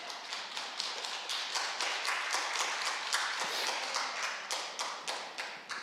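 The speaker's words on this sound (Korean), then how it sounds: "이거 하나님께 박수 올려드리는 거 아니야?" Church congregation at a Sunday worship service claps together, a steady run of fairly even, soft claps repeating for several seconds at moderate distance with no voices over them.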